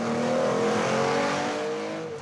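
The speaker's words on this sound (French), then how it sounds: "c'est fantastique de pouvoir rouler sur route avec une voiture comme celle-ci" A historic Porsche race car that once ran events like the 24 Hours of Le Mans drives along a road, its engine close and loud with a sustained harmonic drone that eases off slightly at the end.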